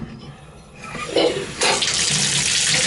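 Hot water runs from a shower with good pressure, starting as a soft hiss and then surging into a loud, steady rushing spray that fills the last half of the moment.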